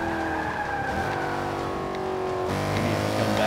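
A race car engine in the Forza video game accelerates, its steady, loud engine tone rising and holding with a shift in pitch partway through, with no voices over it.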